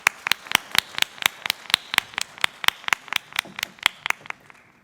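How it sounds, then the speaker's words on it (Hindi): Audience at a Hindi poetry gathering, a kavi sammelan in Pune, claps in a steady, even rhythm, about four sharp claps per second, crisp and fairly close, with no talk over it. "आइए श्री राजेश त्रिपाठी जी के लिए जोरदार तालियां"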